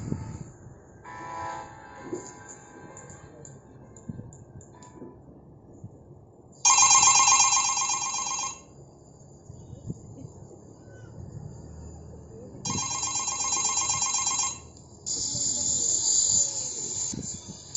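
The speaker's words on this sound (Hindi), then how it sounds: "दोस्त को फोन लगाता हूँ" A phone rings in repeated electronic bursts of roughly two seconds, separated by pauses, with faint background noise and a brief tone early on.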